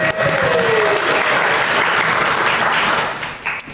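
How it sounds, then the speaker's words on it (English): Audience applause at a community meeting celebrating queer ecology, a loud, sustained burst of clapping that holds steady and then tapers away near the end. "One more round of applause for Rob."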